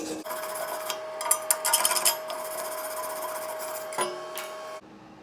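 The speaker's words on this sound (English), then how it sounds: "now you take your little chip and hammer wire brush combo" A chipping hammer and wire brush combo scrapes and knocks welding slag off a MIG weld in a quick run of raspy strokes and sharp taps, close and fairly loud, before stopping abruptly.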